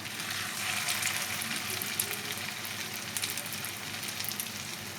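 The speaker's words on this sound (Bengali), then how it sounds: "লাল করে এপিট ওপিট করে ভেজে তুলে নেব" Banana flower fritters frying in moderately hot oil, a dense continuous sizzle with fine crackling bubbles and small pops, close and steady with no talking.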